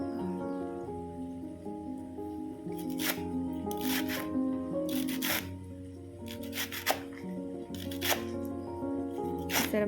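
Leafy greens are sliced finely with a knife, heard as several quiet bursts of crisp rustling cuts that come in uneven clusters over a soft steady background.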